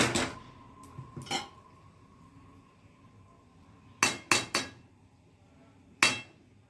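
A metal spoon clanks against a pot of gundar pak with ghee in a few sharp knocks, some in quick pairs, separated by quiet stretches.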